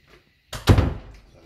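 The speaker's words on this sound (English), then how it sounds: "Ooh, one of the doors." A house door bangs shut once with a heavy, close thud that rings out briefly and fades, following a soft rustle.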